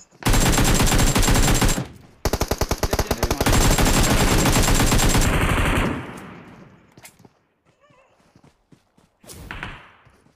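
Rapid automatic gunfire from a battle royale game blasts in long, loud bursts, broken by a short pause, then fades to sparse, quieter shots and a final brief burst.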